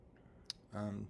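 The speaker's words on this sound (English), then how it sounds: "I click Create" A single sharp computer mouse click, brief and close, in an otherwise quiet room, followed by a voice speaking.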